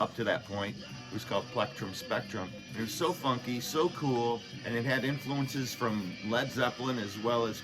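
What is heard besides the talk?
None of the usual background noises is heard.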